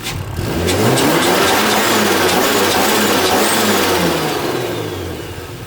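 A car engine runs loud and close, revving up and holding a steady roar before easing slightly toward the end.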